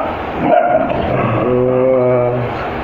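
A pet dog named Bruno yips and barks at close range, with short whimpery calls blending into a steady harmonic whine, while people talk around it.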